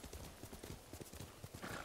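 Horse hooves clip-clopping at a steady riding gait in the video game Ghost of Tsushima, a quick regular run of fairly quiet hoof beats with a brief whinny-like sound near the end.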